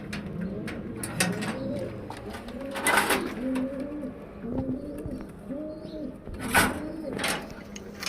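Pigeons cooing while sitting on eggs in a loft on a rainy day, repeated soft throaty coos close by in an uneven rhythm, with occasional clatters and rustles around them.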